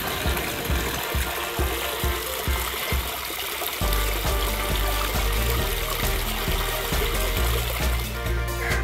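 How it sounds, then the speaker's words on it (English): Water cascades down falls on the trail to the Mount Pinatubo crater in Botolan, Zambales, Philippines, a continuous loud rushing wash with irregular thumping pulses underneath. "The water flows here is more relaxing."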